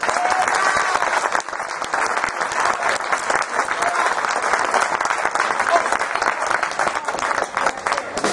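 An audience at a jazz club gives a jazz orchestra a strong round of applause, a dense, steady wash of clapping that holds loud from start to finish.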